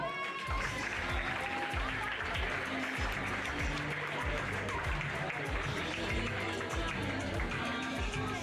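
At a French pony show-jumping championship prize ceremony, a crowd's applause forms a continuous wash under rhythmic, thumping music, with a voice faintly audible in the mix.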